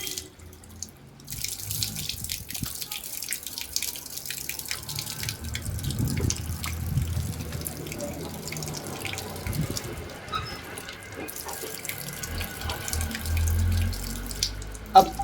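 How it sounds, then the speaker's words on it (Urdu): Water from a tap poured and splashed over hands during Islamic ablution (wudu), a steady running and splashing stream with drips, close and continuous. "چنگل میں پانی لیں اور ایسے پانی کو ڈالیں"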